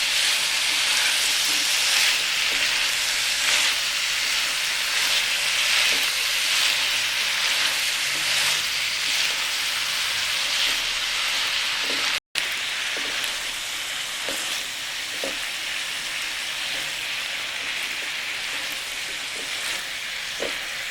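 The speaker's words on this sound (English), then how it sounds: "let the onion cook, let the fragrance come out. I'm gonna saute it for around 5 minutes." Onion and peppers sauteing in a pan for a cabbage stir fry give a steady, dense sizzle and crackle that runs without a break for about twenty seconds, close and fairly loud, with no talk.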